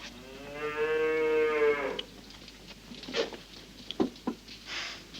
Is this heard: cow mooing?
yes